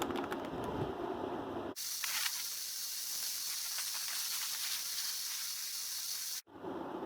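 Spray can hissing out a light primer coat onto Camaro 2SS brake calipers, one long continuous close spray burst after a short stretch of ambient noise, cutting off sharply at the end.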